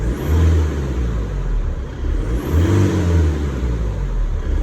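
An Isuzu D-Max diesel engine idles after a repair to the fuel filter assembly and suction valve, a steady, close, low rumble with a gentle rise in revs partway through and no talking.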